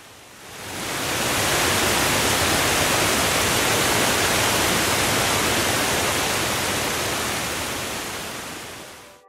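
A misty waterfall in a tropical cloud forest in Colombia gives a broad, steady rushing roar that swells in over the first second, holds loud and even, then fades slightly at the end.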